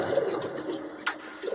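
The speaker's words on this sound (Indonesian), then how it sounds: "kita mau bikin konten permintaan bos Nyu yang memberi saya merpati 5 ekor ya." Pigeons coo softly nearby in low, murmuring calls over a faint background, with a brief higher sound near the end.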